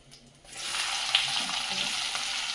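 Onions dropped into hot oil seasoned with cumin and asafoetida for a Marathi wheat vadi curry, giving a sudden steady close sizzle that starts after a quiet moment and holds loud and even.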